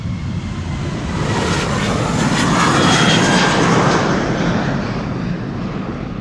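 A KLM Boeing 737 jet takes off from Amsterdam Schiphol's Polderbaan runway, its engines a loud, continuous, broadband roar that rises slightly and holds steady throughout.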